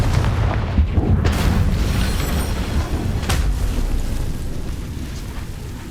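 A Confringo blasting spell explodes in Hogwarts Legacy, a dense rumbling roar of blasts and booms with a few sharp cracks, loud and sustained throughout.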